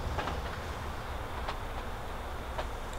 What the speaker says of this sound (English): We just jumped on the train.